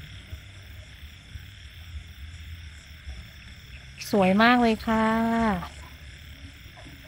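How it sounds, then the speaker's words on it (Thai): Steady night insect chirring from cicadas and crickets fills the background, with a loud nearby croaking call rising briefly in two bursts partway through. "จักรจันทร์จิ้งหรีดเลไรเพราะมากมายเลยค่ะ"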